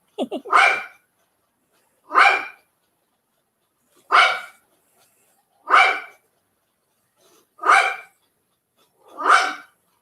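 A dog barks loudly and close by, about six single barks spaced roughly every one and a half seconds with silence between them.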